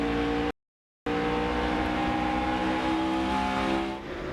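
NASCAR Busch Series race cars at Gateway roar steadily past, engines held at high revs in a continuous loud drone that briefly cuts to silence, then resumes and fades slightly near the end.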